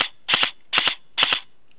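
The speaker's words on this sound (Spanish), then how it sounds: "se me pasa de revoluciones y disparo muchas veces cuando estábamos jugando a tiro a tiro" A Krytac airsoft replica fires in three quick bursts of rapid sharp cracks during an airsoft match, each burst brief and loud with clean gaps of quiet between.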